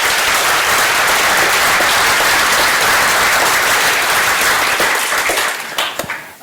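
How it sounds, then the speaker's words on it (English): Loud, full applause from a conference audience at an open-source BSD software event, dense continuous clapping that thins out into a few last claps at the end. "So please give them a round of applause."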